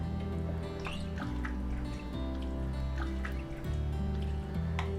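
Coconut milk pours into a stew pot for an African sweet potato stew with chicken and diced tomatoes, a soft, steady liquid glugging and dribbling over a continuous low background hum.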